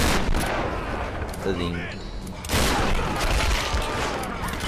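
Shotgun blasts from the Tomb Raider video game, two loud booming bursts in an intense firefight, with a single spoken word in the gap between them.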